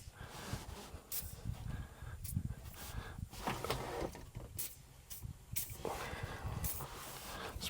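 Bursts of penetrating spray hissing from an aerosol can in several short blasts, close up, separated by brief pauses and handling noise, during John Deere mower steering gas strut work.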